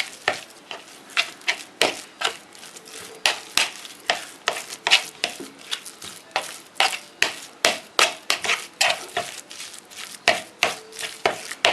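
Minced meat and onion mash being stirred for cutlets, a steady run of wet, squelching scrapes repeating in a quick rhythm, close and fairly loud with no talking.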